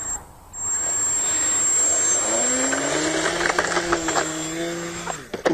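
The engine of a model Cessna 150 airplane rises to a loud, high-pitched whine and holds steady as it takes off, the tone shifting slightly as it moves away.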